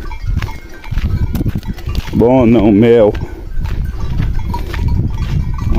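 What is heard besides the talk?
goats bleating in the scrubland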